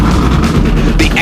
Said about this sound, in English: it will still start this 750 horsepower engine